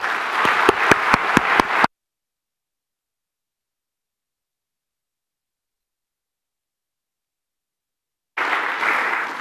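Audience applause for the finalists and award winners at the closing of the 2016 NZ Open Source Awards: a brief burst of sharp claps, then silence, then applause returning near the end.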